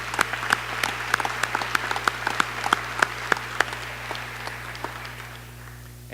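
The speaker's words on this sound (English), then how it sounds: "I do want to give our bus drivers all a round of applause." A school staff audience claps for their bus drivers, a modest scattering of distinct hand claps in an uneven rhythm that starts fairly strong and thins out over a steady hum in the room.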